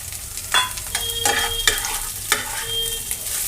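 Chopped tomatoes drop into a hot frying pan, followed by scraping stirs with a spatula over a soft sizzle, a few distinct strokes close by.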